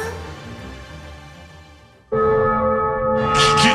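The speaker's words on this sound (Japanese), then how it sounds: "聞きたまえ、諸君の弔いの鐘だ。" A funeral bell tolls in the GrimGrimoire OnceMore game trailer, a soft ringing that swells into a loud, sustained clang with bright shimmering overtones, heard alone without voices.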